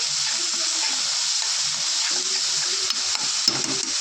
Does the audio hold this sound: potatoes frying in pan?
yes